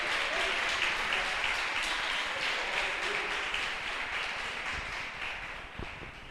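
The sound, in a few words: congregation applauding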